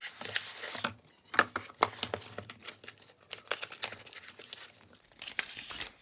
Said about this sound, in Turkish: Şimdi kutuyu açalım.